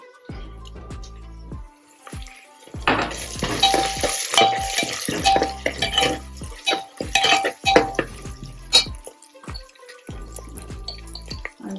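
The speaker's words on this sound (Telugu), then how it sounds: "కొంచెం ఇలా క్రష్ చేసి ఒక 2 వెల్లుల్లిపాయలు వేస్తున్నానండి." Two crushed garlic cloves hit hot oil in a pan for vegetable biryani, giving intermittent sizzling bursts mixed with clinks and scrapes of a spoon against the pan.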